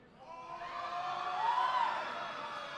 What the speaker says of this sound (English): And the crowd giving him the mouth, man.